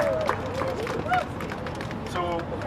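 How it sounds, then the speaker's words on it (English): A crowd at a candlelight vigil claps in a scattered, moderate round of applause, with background chatter and voices mixed in. "let's give them a round of applause"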